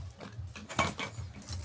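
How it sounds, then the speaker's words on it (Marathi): A wok is set onto a wood-fired clay stove, producing a few soft clanks and scraping metallic knocks in quick succession, quiet and close. "आपण चुलीवर कढई मांडूया।"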